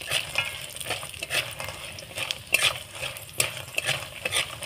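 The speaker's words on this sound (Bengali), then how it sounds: "আমি বড়িটাকে একটু হালকা হাতে ভেজে নেব।" Bori lentil dumplings frying lightly in oil, a continuous close sizzle with rhythmic stirring scrapes and small clinks of the utensil against the pan.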